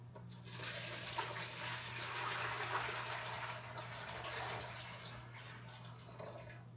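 Boiled water from a kettle pours into a container in a home dyeing setup, a steady, fairly quiet gush of running liquid lasting several seconds without pause.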